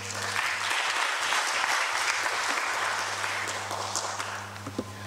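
Audience at an academic forum session in Tanzania applauding the panelists, a sustained wash of many hands clapping at full strength that tapers slightly near the end.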